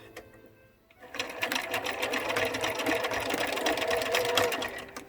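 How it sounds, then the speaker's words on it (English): A sewing machine driven by a foot pedal starts after a second of quiet, then stitches a face mask in a quick, steady run of needle clatter, fairly close and continuous. "And I'm going to start sewing here"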